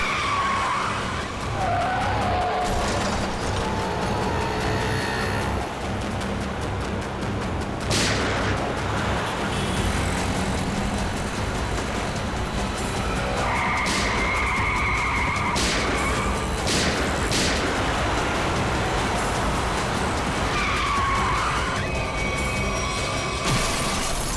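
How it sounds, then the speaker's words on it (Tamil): Cars driving through traffic with loud tyre skids, continuous engine roar and rushing noise, and several sharp impact-like bangs, dense and close throughout the scene. "நிறைய வண்டி போயிட்டு இருக்கு."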